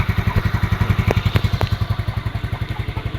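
A Yamaha Mio Sporty scooter engine runs at a steady idle, its close, even, rapid thumping pulses repeating without a break, with a few faint clicks riding on top.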